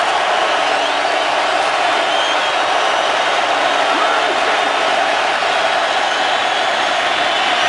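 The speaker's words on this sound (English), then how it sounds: "Tough to get off on the snap with the crowd noise." A dense, loud roar fills a football stadium during an NFL game between the Green Bay Packers and Atlanta Falcons in Atlanta, a continuous wash of crowd noise with no breaks.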